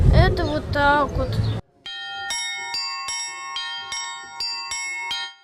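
Church bells rung by an eight-year-old bell ringer at a bell-ringing festival, a series of clear bright strikes in a steady rhythm with long ringing overtones, following a stretch of speech at the start.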